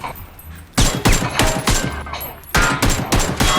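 Rapid bursts of automatic gunfire in the battle royale game PUBG, several loud clustered volleys cracking close by with short gaps between them.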